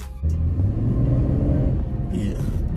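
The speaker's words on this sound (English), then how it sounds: "It definitely got acceleration." A new car accelerates, its engine rumbling low and steady from inside the cabin for a couple of seconds, loud and close, with little else over it.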